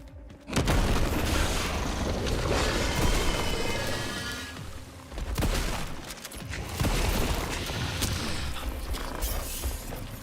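Shotgun blasts in Resident Evil Requiem ring out loud and close amid dense, continuous game action and booming impacts, with a brief dip in the middle before the chaotic barrage resumes.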